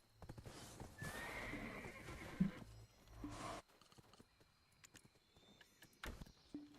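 Horses neigh and whinny with clip-clop hooves in Black Desert Online, a loud burst of calls early on, then scattered hoof steps and a sharp neigh near the end.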